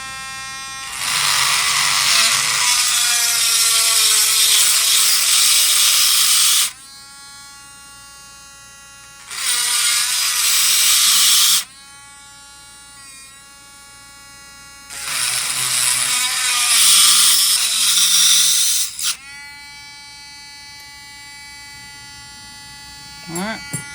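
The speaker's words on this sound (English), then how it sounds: "now what we're about to do is bevel these holes here" Small high-pitched power tool whining in three long bursts while beveling the tops of holes in a vintage Case XX razor, loud and close with brief pauses between runs and a lower hum between them.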